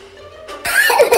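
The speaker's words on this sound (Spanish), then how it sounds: "esa tos sí es peligrosa" A short, sharp cough bursts out indoors after a brief quiet moment, a couple of rough hacking pulses close to the listener.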